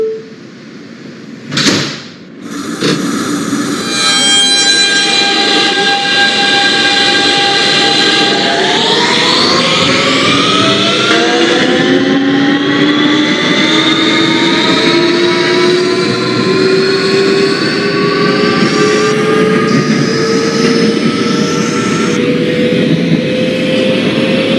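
An R160B Siemens subway train in the OpenBVE simulator pulls away from a station: a door chime and sharp door thud early on, then steady motor whine rising in pitch as it accelerates, loud and continuous.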